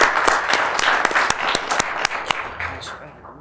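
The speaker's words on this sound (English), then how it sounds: "This is probably the last night we'll get applause," Applause rings out at a township committee meeting, a steady run of sharp claps from a small crowd that thins and fades out after about three seconds.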